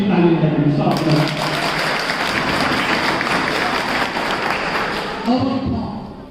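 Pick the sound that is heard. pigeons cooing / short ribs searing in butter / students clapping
students clapping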